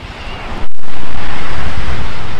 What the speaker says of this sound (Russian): Сильные волны, которые грозят вас перевернуть и забить ваши уши